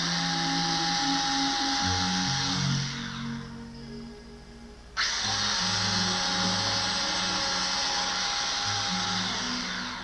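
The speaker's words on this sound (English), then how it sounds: "he's drilling holes in his chest" A high-pitched dental-style drill whines loudly from a horror film scene of drilling into a man's chest, breaking off for about two seconds before starting again, with a low musical score droning underneath.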